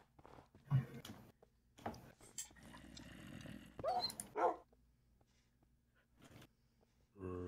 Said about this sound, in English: your dog is starving